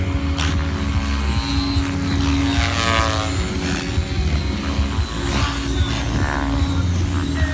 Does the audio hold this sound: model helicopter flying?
yes